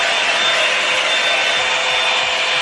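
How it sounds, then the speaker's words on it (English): A hair dryer on its cool setting blows steadily as it dries a wig cap for a quick weave, making a loud, close, continuous rushing whoosh with no talk. "I realized it's because I was blow drying it on cool instead of hot."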